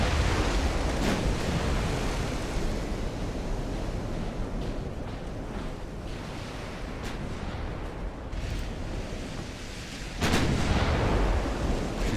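Battleship artillery in Ultimate Admiral: Dreadnoughts rumbles as a continuous roar of heavy naval gunfire, with distant booming salvos and a loud blast near the end.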